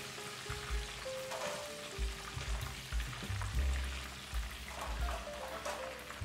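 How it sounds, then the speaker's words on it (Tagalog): Shrimps fry in hot oil with a steady, fairly gentle sizzle and crackle, and occasional utensil knocks and low clunks sound near the pan. "naririnig mo yung mantika na medyo nagiging peaceful na, ibig sabihin yan, almost ready na yung iyong shrimps"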